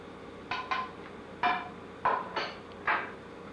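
Several clinking, clattering knocks against a metal pan, irregular and close, as broccoli pieces drop into a saucepan of boiling water one after another.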